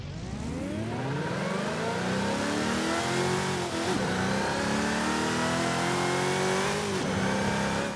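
Dual supercharged V8 of a Deberti C10 Slayer in Forza Horizon 5 revs hard and continuously, pitch climbing through gear-like sweeps, loud and close with supercharger whine layered over the engine roar.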